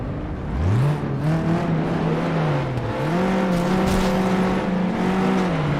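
Race cars in FlatOut 2 launch at the start of a derby race, engines revving up hard and shifting through rising and falling pitch, loud and close with a roaring crowd of motors behind.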